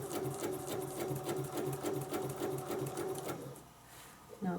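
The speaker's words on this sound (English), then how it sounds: "Now I'm going to stitch over a couple stitches to get to the other side of the body." Domestic sewing machine stitching across the body of an appliqué butterfly, a steady fast needle rhythm running for several seconds before stopping, with a voice talking over it near the end.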